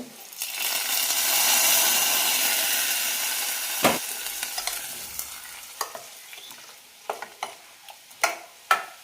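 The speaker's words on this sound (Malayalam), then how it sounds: "ഇനി കടുകും കറിവേപ്പിലയെല്ലാം വെച്ച് താളിച്ചിടാം" Mustard seeds, curry leaves, chili and fenugreek tempering in hot oil for a Kerala buttermilk curry with Chinese potato: a steady sizzle swells then fades, followed by scattered sharp pops and crackles of spluttering seeds, close and with no talking.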